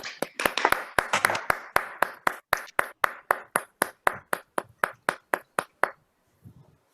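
Members clap over an online meeting call in a quick, evenly spaced run of about twenty sharp, crisp claps that sounds like one or two close pairs of hands rather than a crowd, then stops, followed by faint noise.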